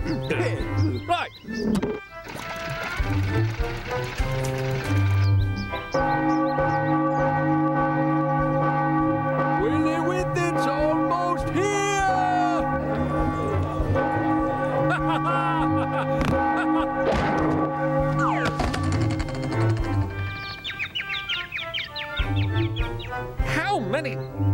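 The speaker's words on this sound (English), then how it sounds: "How many times do I have to tell you not to ring that blasted bell?" A bell rings steadily and loudly for a long stretch with a sustained, resonant metallic tone. Rooster-like clucks and voices mix in around it.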